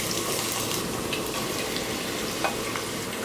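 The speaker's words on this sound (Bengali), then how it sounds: "শুরুতে পেঁয়াজগুলোকে হালকা একটু ব্রাউন করে ভেজে নিব" Chopped onions frying in hot oil in a pot, a steady close sizzle with faint stirring clinks running throughout, no voices.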